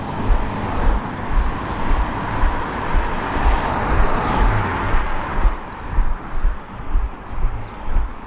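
Cars pass quickly along a road through a town, a continuous loud rush of tyres and engines close by with gusts of wind, the traffic noise swelling and fading without pause.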